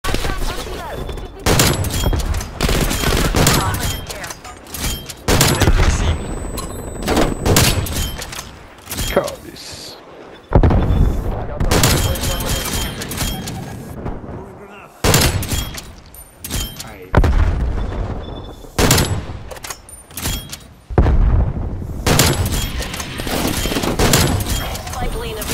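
Gunfire in a first-person shooter game with the ZRG rifle, bursts of loud shots and rapid volleys repeating throughout, close and dense, with a player talking over parts of it.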